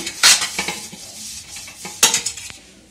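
A metal utensil scrapes and clinks inside a cooking pot while it is greased with desi ghee, two sharp bursts of scraping with softer rubbing strokes between, close and clear with no talking.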